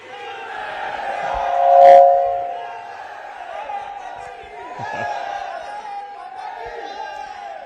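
A crowd at a civic development event in Gandhidham cheers and chants to welcome the Chief Minister, with one loud swell of shouting early on and a steady roar of voices throughout.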